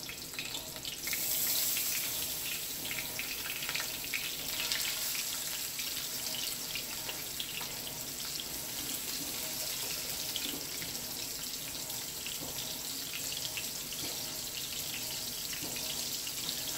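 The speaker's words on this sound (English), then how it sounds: "a few tablespoons of olive oil. I'm going to brown these lightly on each side." Pollack fillets browning lightly in a few tablespoons of olive oil give off a steady, dense sizzle and hiss, continuous and close throughout with no talking.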